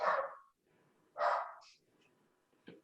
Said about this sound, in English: Where's that barking coming from?